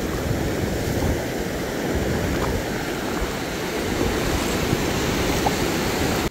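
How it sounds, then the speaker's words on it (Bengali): Rising-tide sea waves wash steadily onto the open Bay of Bengal shore at Dublar Char in the eastern Sundarbans, a continuous broadband roar of surf mixed with wind, loud and unbroken with no voices. "জোয়ার হচ্ছে"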